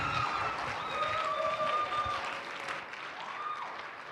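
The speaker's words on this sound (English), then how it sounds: "One big last round of applause" Concert audience applause after a choral singing performance, moderately loud clapping mixed with a few tonal whistles or held voices, thinning slightly toward the end.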